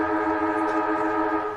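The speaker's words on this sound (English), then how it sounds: "the halftime siren sounds here at TIO Stadium" Halftime siren at TIO Stadium during a Northern Territory men's premier league Australian football match, a loud steady droning tone held without a break and heard alone, with faint crowd ambience beneath it.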